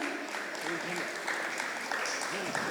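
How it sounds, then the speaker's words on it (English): An audience at a school carol singing competition applauds the students, with steady, moderate clapping throughout and a voice talking over it. "Let us hear a big round of applause once again"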